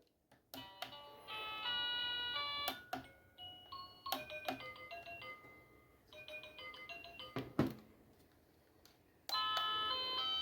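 A Cata wireless doorbell plays several short chime melodies in bright, tonal notes, separated by brief clicks and pauses; no talking.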